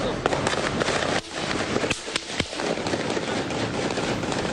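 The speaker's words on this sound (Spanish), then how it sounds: "Esos son balazos" A sharp crack of gunfire rings out against a dense, noisy background, with several more sharp gunshots close together during a Mexican army operation, and voices talking.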